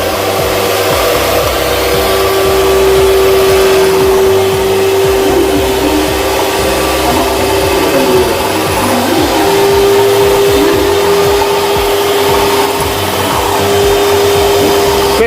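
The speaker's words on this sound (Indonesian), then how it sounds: "Lalu setelah itu kuning telurnya bersamaan dengan gula anaonya itu di mixer." An electric mixer beats egg yolks with palm sugar in one loud, continuous motor whine that holds a steady pitch throughout, with slight wavering as the beaters work the mixture.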